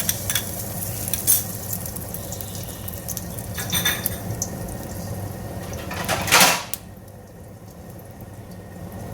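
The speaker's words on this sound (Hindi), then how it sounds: "अंडा मैंने बीट कर लिया है, अब मैं ये बना लूँगी।" Beaten egg sizzling in a hot pan for chicken jalfrezi, with a steady fry hiss under scraping stirs and a louder burst of sizzle near the end, then quieter.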